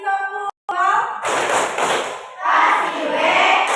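An Indonesian classroom of students claps along to a teacher's prompt, giving a short burst of hand claps and cheering right after her voice, fairly close and lively.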